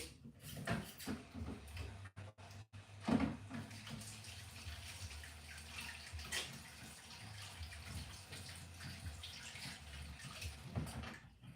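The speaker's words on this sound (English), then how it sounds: "I'm gonna wash my hands" A water tap runs into a sink for handwashing, a quiet, steady wash of flowing water with a few clunks and splashes, faint and alone.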